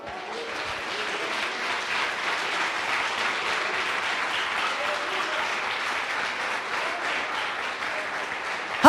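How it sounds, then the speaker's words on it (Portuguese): Sustained applause from a church congregation at an evening worship service, a dense steady wash of many hands clapping that holds at an even level throughout with no talk over it. "Você pode aplaudir o Senhor?"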